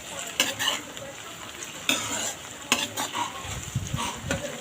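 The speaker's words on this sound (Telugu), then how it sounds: "అలాగే చిన్న టమాటా ముక్కలు మంచిగా ఫ్రై చేసుకున్నామండి" Small tomato pieces frying with green chillies in a pan, a low sizzle broken by repeated scrapes and clanks of a metal spoon stirring against the pan, close and uneven.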